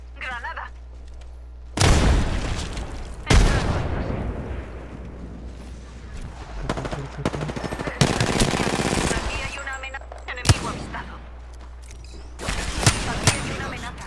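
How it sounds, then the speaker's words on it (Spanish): Gunfire in the video game Apex Legends, with loud bursts of automatic weapon fire and sharp single shots that come in repeated clusters over steady game noise, while a player talks over the shooting. "Estoy recibiendo disparos. Abriendo fuego."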